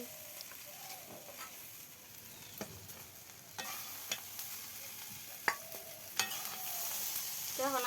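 Fig (dumur) vegetable curry sizzles gently in a pan, with a continuous soft frying hiss and scattered scraping strokes of a stirring utensil, fairly quiet and close.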